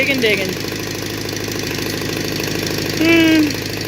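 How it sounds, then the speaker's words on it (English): A backhoe engine runs steadily while digging, a continuous mid-pitched idle-like drone with a brief louder surge near the end; faint speech sounds mix in. "I back up because that backhoe"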